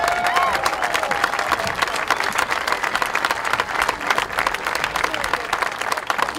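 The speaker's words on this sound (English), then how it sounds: "can we have one final round of applause for the class of 2022 Simley Hall of Fame" Sustained applause and cheering from a crowd honoring a class of Hall of Fame inductees at a high school football game, dense steady clapping with voices mixed in throughout.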